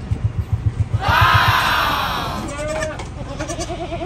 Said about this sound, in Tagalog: ito ba yung kambing na yung muntik nang namatay?